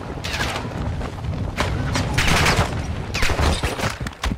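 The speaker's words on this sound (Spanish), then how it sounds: "Disparos al menos." Sustained gunfire in Call of Duty Warzone DMZ, dense bursts of rapid shots rolling continuously and loudly with brief surges, no talking over it.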